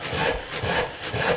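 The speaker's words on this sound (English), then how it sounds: "and square sawing." A hand saw cuts a wooden board in rhythmic back-and-forth strokes, roughly four rasping pulls close up, each one a bright scratchy swish, with no voices over the sawing.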